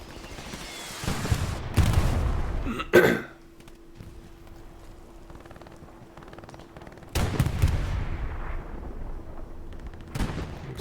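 Heavy gunfire in a Hell Let Loose match with a commander firing, booming blasts around the 1–3 second mark and again later, loud and close against a steady battlefield hum, with a sustained tone droning in between.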